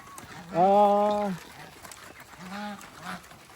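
Restless turkeys on a farm give two harmonic calls, a loud near one lasting nearly a second, then a softer, shorter one, over low background noise.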